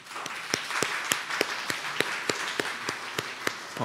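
Church congregation at a Sunday Taiwanese-language worship service applauding, a steady run of claps with sharp individual hand strikes standing out, no talking.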